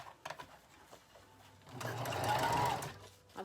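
Sewing machine stitching a ruffle dress, a few short taps then a steady whirring run, quiet and close.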